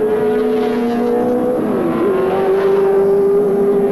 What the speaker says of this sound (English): So as Bob Morris roars away